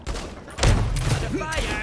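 Video game gunfire crackles in a dense, loud burst that swells midway, and a player's voice sounds over it.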